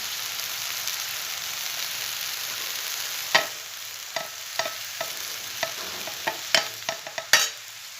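Tandulsa bhaji seasoned with chutney and salt being stirred in a pan: a soft continuous sizzle, then a run of crisp spatula scrapes and taps growing quicker and louder toward the end, no talking.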